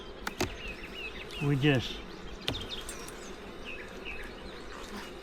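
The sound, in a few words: honeybees buzzing during beehive inspection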